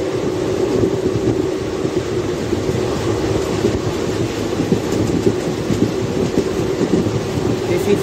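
A passenger train, No. 17603, arriving at Shadnagar, rumbles steadily and continuously, with a dense low-frequency roar and faint rhythmic clatter of wheels running along the track throughout.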